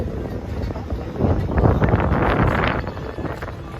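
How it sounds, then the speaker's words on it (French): Wind gusts buffet the microphone in a low, steady rumble that swells midway and eases off again, in Lisbon's Alfama district near São Jorge Castle. "c'est bien, ça rafraîchit le vent là"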